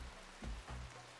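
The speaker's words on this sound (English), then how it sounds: "Even though it's raining." Rain falling in the video game RimWorld, a steady broadband hiss of rainfall with a few low thumps from game sounds, quiet and continuous with no voices.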